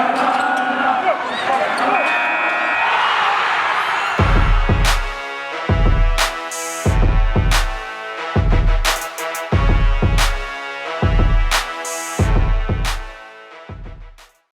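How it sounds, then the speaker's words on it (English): A podcast intro theme for a basketball show plays, opening with a layer of music before loud, close basketball bounces land in a steady rhythm, each thump sharp and booming, roughly one per second until it cuts off. "I'm gonna miss hearing that theme song to the podcast."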